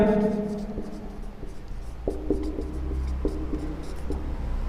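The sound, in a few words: writing on a board while solving a math problem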